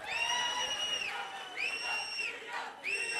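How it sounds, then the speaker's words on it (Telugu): A crowd at a BRS political rally in Vikarabad cheers loudly, with repeated sustained whoops and shouts rising in waves over a dense, continuous roar of voices. "ఇక్కడికి వచ్చిన మన బీఆర్ఎస్ వర్కింగ్ ప్రెసిడెంట్ కేటీఆర్ గారికి గట్టిగా చప్పట్లు కొట్టండి"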